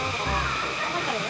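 Water rushing down Sta. Lucia waterfall on Mount Banahaw in Dolores, Quezon, a steady broadband hiss of falling water heard briefly and close.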